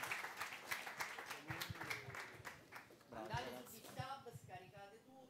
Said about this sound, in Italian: Io farei un altro applauso a questi ragazzi